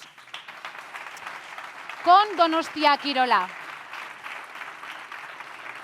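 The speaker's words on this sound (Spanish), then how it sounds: "Un aplauso para ellos" Applause fills a sports-respect forum in San Sebastián, a soft steady patter of clapping beneath a speaker's voice, which briefly dominates in the middle before the crowd noise carries on alone.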